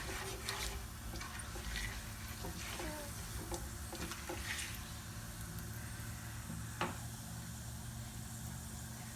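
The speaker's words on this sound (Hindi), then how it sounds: "अब इसमें हम डालेंगे गरम मसाले और इसको करेंगे हल्का सा सौते" Whole garam masala sautéed in about half a cup of hot oil for a chicken korma, a faint, steady hissing sizzle with light stirring scrapes and occasional soft pops throughout.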